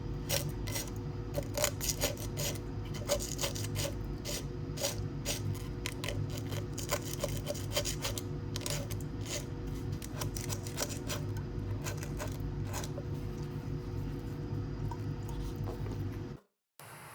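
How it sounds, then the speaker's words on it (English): Silver crystals scraped from the inside of a bowl, making a rapid run of dry, gritty scratches and clicks up close for about sixteen seconds, then an abrupt stop followed by a brief low hum. "There's a few crystals that were clinging to the inside of the bowl, so I scrape those down"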